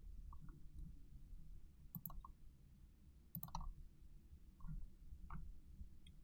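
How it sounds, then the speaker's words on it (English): A few faint, sharp mouse clicks sound at irregular intervals against a quiet, low hum. "just want to make sure I'm clicking on the right thing here"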